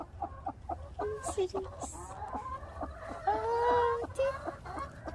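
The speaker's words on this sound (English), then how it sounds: "Is it any chickens here?" Chickens cluck close by in short repeated bursts, with a few higher calls mixed in, while people talk softly over them.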